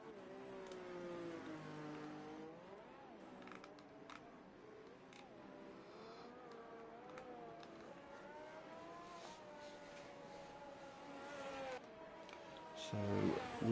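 Race cars circle a track warming up their tyres in a racing video game, several engines whining and shifting pitch as they pass, fairly faint and steady, with one car rising louder at the end.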